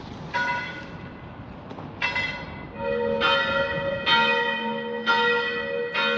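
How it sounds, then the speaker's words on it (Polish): Church bells in the Czech Republic ring out on a Sunday, several clear, resonant strikes arriving at roughly one-second intervals and overlapping as they decay, heard from a moderate distance outdoors. "niedziela, dzwony biją"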